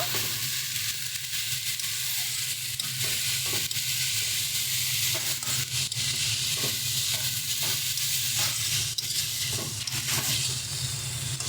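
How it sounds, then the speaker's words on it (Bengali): Chickpea greens being stirred with mixed vegetables and bori in a hot frying pan, a steady close sizzle with repeated scraping stir strokes throughout, no talk. "ভালো করে সমস্ত সবজি বড়ি সব কিছুর সঙ্গে ভালো করে শাকটাকে মিশিয়ে নেব।"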